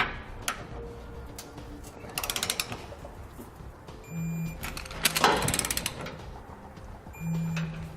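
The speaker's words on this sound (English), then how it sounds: "Next we'll torque all of our hardware down to the specifications in the instructions." A torque wrench ratchets as hardware is tightened on a Curt trailer hitch receiver for a 2017 Ram 1500, giving bursts of rapid clicking with metallic creaks and clanks, close and fairly quiet, without speech.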